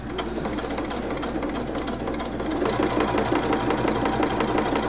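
A sewing machine runs steadily while stitching bias binding along the curved edge of fabric for a small bag, its motor hum and rapid needle clatter growing a bit louder partway through, with no talking.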